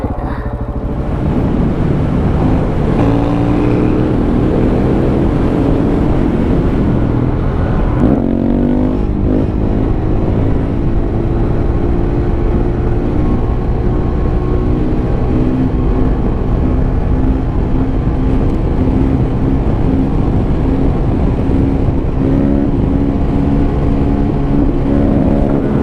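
A KTM 690 motorcycle ridden off-road through Cape York jungle, its engine droning loud and constant with shifting revs and rising pitch sweeps as speed changes, wind buffeting throughout.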